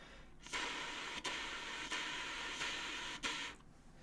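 Soft, breathy airy hiss from tonguing an alto saxophone reed without sounding a note, repeating in several sustained bursts with brief breaks between them, close and quiet, with no pitched tone.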